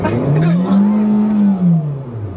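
A car engine revs while the car sits in park, rising to one smooth, loud, sustained swell that holds steady and then falls away over a couple of seconds.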